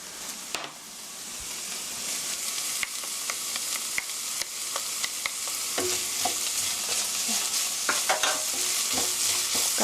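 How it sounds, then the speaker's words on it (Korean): Onion and chili powder are stir-fried for mapo tofu. A steady sizzle runs under repeated sharp scrapes and taps of a utensil against the pan, and the frying grows slightly louder over time. "이렇게 볶아주시고요"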